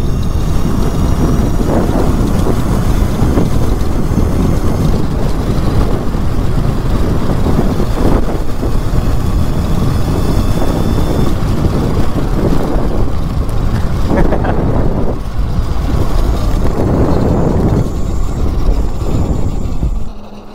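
Mega Moto 80/105 electric mini bike running at top speed on 86 volts, a steady loud rush of wind buffeting the microphone over motor whine for the whole run, easing off only at the very end.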